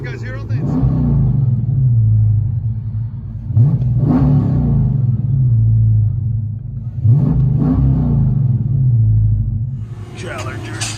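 A 2018 Dodge Challenger Scat Pack with a 6.4L HEMI V8, dual exhaust and long-tube headers revs loudly up close, three deep rumbling throttle blips rising and falling, with someone talking briefly near the end.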